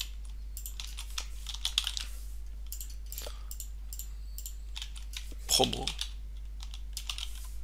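Fast bursts of typing on a computer keyboard, close and clear, with brief pauses between runs, one louder clack, a steady low hum underneath and a single spoken word.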